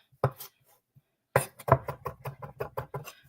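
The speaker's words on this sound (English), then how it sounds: "Smash it. And then mince. Same with the garlic as we did with the herbs." A knife smashes and then minces fresh garlic on a cutting board, with a single thump followed by a quick rhythmic run of close, crisp chops.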